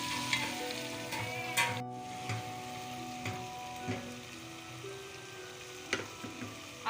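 Ground onions fry in about a cup of oil, a soft, continuous sizzle with occasional stirring clinks and scrapes scattered through it, fairly quiet and without any talking.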